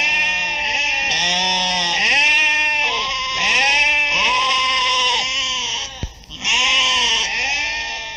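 Several goats bleating close by in a village near a forest, overlapping wavering cries one after another with hardly a pause, loud and clear.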